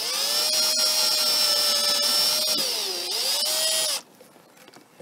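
A power drill with a 3.5 mm bit whines steadily at high speed, dipping briefly as it bites into wood, then cuts off abruptly, leaving near quiet.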